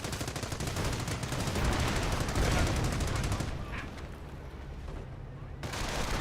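Dense, continuous battlefield din from Company of Heroes, with rapid machine-gun bursts, rifle fire and heavy explosions layered into a loud, unbroken roar that thins briefly before swelling again.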